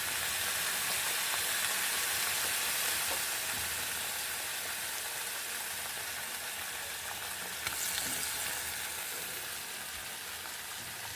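Soybean kofta gravy with boiled potato frying in a pan, a dense, continuous sizzle like steady rain, close and even, with one brief louder crackle near the end.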